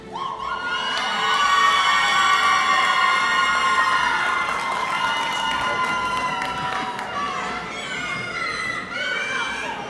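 A crowd at a Houston Police Department cadet graduation cheers and hollers, with loud, overlapping shouts and whoops that swell early, then ease into a sustained roar for several seconds.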